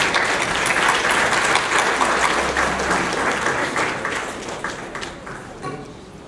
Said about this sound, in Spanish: Démosle un cálido aplauso a nuestro país.